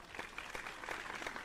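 Applause heard inside the horror video game The Crooked Man, a steady mid-level patter of clapping lasting the whole moment without any voices on top.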